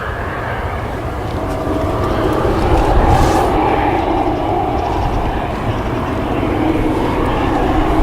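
Bombardier Challenger jet's auxiliary power unit running steadily at Leeds Bradford Airport, a continuous broadband whine and rumble holding level in the background throughout, with no talk.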